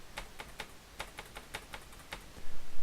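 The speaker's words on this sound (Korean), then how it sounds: "키보드 오른쪽 방향 키를 누르면" A computer keyboard is tapped in a quick run of light, crisp clicks, roughly a dozen evenly spaced key presses close by, with no one speaking.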